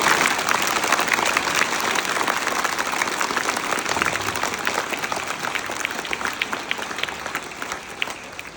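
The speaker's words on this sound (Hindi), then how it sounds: "सब बच्चे एक बार जोर से तालियां बजा के एक बार जोर से" Schoolchildren at a Delhi municipal primary school clap loudly together for a guest, a bright, dense burst of many small hands that stays strong and gradually thins toward the end.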